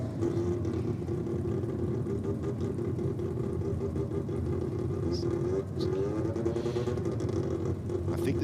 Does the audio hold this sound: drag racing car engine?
yes